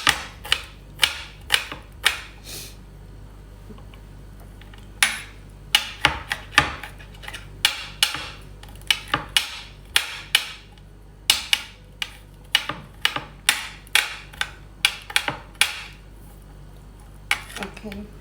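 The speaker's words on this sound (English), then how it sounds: "Chop the garlic into very fine pieces." Garlic being chopped finely with a knife on a cutting board in a home kitchen, a steady run of sharp, quick taps in uneven bursts with brief pauses, close and fairly loud.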